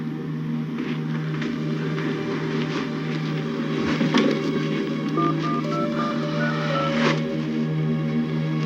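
A telephone number is dialed, with a short series of keypad tones heard faintly over a steady background hum.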